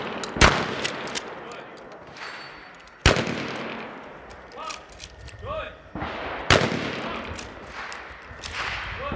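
Tactical shotgun shots at an outdoor firearms class ring out loud and sharp, three heavy blasts a few seconds apart, each trailing off into a brief echo.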